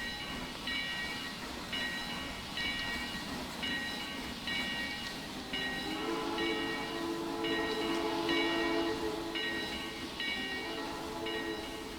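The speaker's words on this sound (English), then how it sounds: "At least they has jointed rail track sounds." A heavy 2-10-2 steam locomotive in the Trainz simulator rolls over jointed rail, its steady rumble punctuated by regular clicking rail joints, with a sustained whistle-like tone rising midway, moderately loud and without talk.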